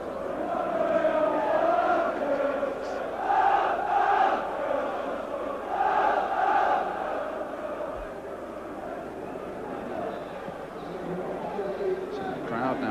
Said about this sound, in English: So the crowd now eagerly awaiting the start of the second half.